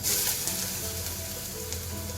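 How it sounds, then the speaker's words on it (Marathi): Carrots and onion sizzle steadily in hot oil, a dense continuous crackle of frying with no voices. "आपल्याला ह्या तेलात गाजर आणि कांदा परतून घेत आहे"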